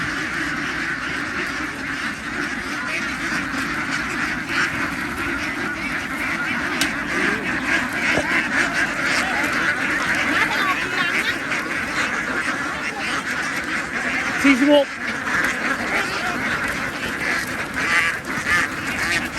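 A flock of laying ducks, about 3,100 birds, quacks continuously in a dense, overlapping chorus, close and steady, with someone briefly speaking a few words partway through.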